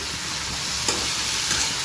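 Cut potato pieces frying in a pan for Assamese aloo bhaji, giving a steady, close sizzle with faint stirring scrapes and no voices.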